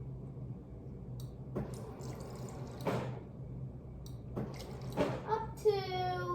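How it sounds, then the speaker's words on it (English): Water is poured into a container for a slime science experiment, giving a few soft splashing pours and then a rising gurgling fill, close and moderately quiet. "We're gonna pour some water in there, and then we're gonna pour it in the bowl."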